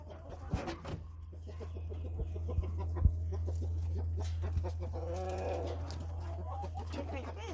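Chickens cluck and coo on a farm in a series of short, separate calls over a steady low hum. A brief voice cuts in once.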